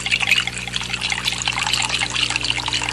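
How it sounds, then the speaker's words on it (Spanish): Water pours from one container into another of different size and shape, a continuous bright splashing trickle that runs steadily for the whole stretch, close and clear with no talk. "vacía el agua en otro recipiente de distinto tamaño y forma"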